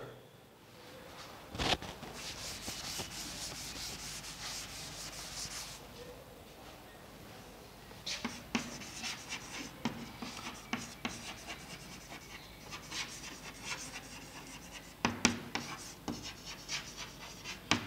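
Marker or chalk scratching across a board during a lesson on the bioaccumulation factor, in intermittent rubbing strokes with short pauses, fairly faint, mostly without talk.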